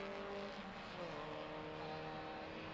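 Spec Miata race cars battling on a circuit, a steady blend of engine drone and revving that holds at moderate loudness throughout, with no talk over it.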